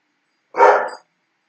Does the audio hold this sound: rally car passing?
no